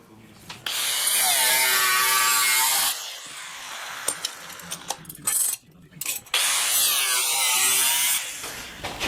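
A saw rasps through a wood offcut in two long, loud bursts of cutting, with knocks, clatter and handling noises in between.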